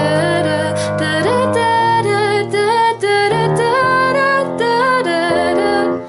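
Piano with sustain pedal plays a passage from a song, a vocal-style melody over held chords that change every second or so, steady and fairly loud with no talking.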